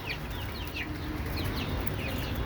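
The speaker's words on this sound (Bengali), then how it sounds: "মুরগিগুলোকে বাইরে ছেড়ে দিছি।" A flock of young chickens kept for meat, let out into the yard, gives repeated short high peeps and clucks over a steady outdoor background hum.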